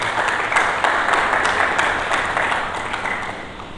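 A church congregation claps together in a warm, steady burst of applause that holds for a few seconds and then gently tapers off.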